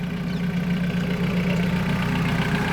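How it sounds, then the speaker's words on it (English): A small blue tractor pulling a red trailer passes nearby outdoors, giving a steady, close, mid-low engine drone with a faint knocking texture throughout. "It's a little blue tractor"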